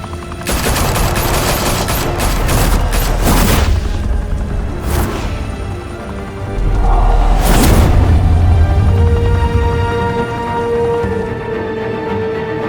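Heavy gunfire in the Batman Telltale video game, with loud sustained bursts and booming volleys that swell twice, roughly at the start and midway, with no voices over them.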